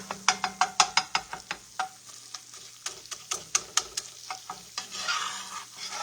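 A spoon scrapes rapidly around a pan as flour is stirred into gravy to work out lumps, a brisk run of close, sharp knocks and scrapes, pausing briefly, then resuming over a soft sizzle.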